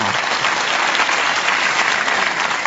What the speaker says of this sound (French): applaudissements pour Cœur de Pirate qui était avec nous ce soir